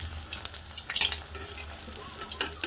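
Pakoras frying in hot oil while being stirred, a steady bubbling sizzle broken by light scraping of a utensil against the pan, fairly quiet and close.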